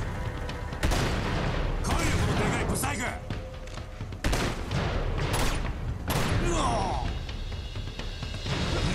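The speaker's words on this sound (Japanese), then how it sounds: "自分で爆発させやがった" Explosions and gunfire from the action game Uncharted: repeated heavy booms and bursts of shots, loud and dense, with a voice talking over the combat.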